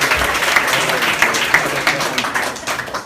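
An audience breaks into applause at a family celebration, a dense wash of many hands clapping that stays loud and close, then thins toward the end, with a few voices mixed in.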